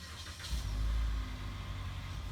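A car driving away at a distance, a low engine rumble that swells and then fades as it pulls off, heard faintly outdoors with no talk.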